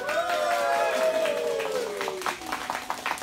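An audience at a live band show at Tachikawa BABEL applauds the drummer, with a scattered patter of clapping that rises after a spoken introduction.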